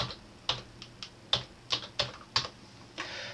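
Keystrokes on a computer keyboard on a Windows 10 PC, about eight distinct clicks at an unhurried, slightly irregular pace, close and moderately loud over a quiet background.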